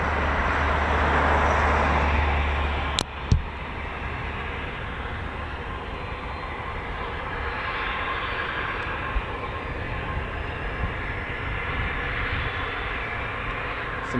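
Military jet engines at an air force base, with KC-135, KC-46, CV-22 Osprey and F-15QA aircraft present, hold a steady loud roar throughout, broken by a brief sharp pop near the start.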